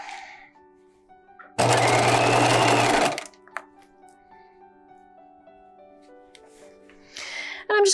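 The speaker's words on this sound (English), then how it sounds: "I'm just gonna keep sewing all the way around until I get to the other opposite side of the neckline with those folded in seam allowances." A sewing machine runs in one steady burst of about a second and a half as it stitches around the neckline of a bodice, with folded-in seam allowances. Quieter handling sounds come before and after, with a short whirr near the end.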